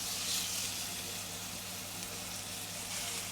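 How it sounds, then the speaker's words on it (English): Beef short ribs sear in a hot pan with a steady, loud, continuous sizzle that holds evenly throughout without pause. "let's sear these short ribs"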